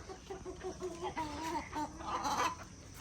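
Several chickens cluck and murmur softly close by as they are fed, a steady run of short calls with a few louder squawks near the end.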